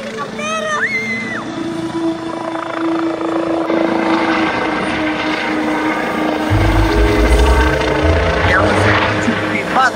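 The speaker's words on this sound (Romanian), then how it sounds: "au venit două elicoptere" Two medical-assistance helicopters arriving at a snowy ski slope, a loud steady rotor thrum and whine that swells toward the end, with people talking over it.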